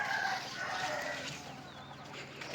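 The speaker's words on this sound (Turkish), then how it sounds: "Horozları kızıştırıyorlar, dikleniyorlar." Roosters squabble and provoke each other in a backyard coop, giving short agitated squawks and calls over a steady farmyard murmur, close and fairly loud.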